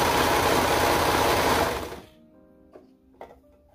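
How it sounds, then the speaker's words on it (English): Overlock serger runs at full speed stitching around the bottom edge of a crop top's fabric, a loud steady whir for about two seconds that then stops, leaving faint clicks. "I'd serge around the edge"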